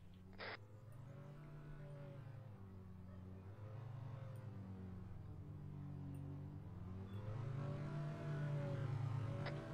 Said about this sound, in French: J'entends un moteur.